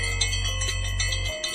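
A cartoon bell in a circus scene rings out in a few quick, bright strikes over about a second and a half, close and clear, with a low steady hum underneath.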